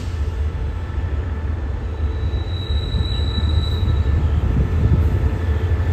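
SRT special express train 37/45, including first-class sleeper cars, rolls past close by with a loud continuous rumble of wheels on rail and a faint high squeal riding above it.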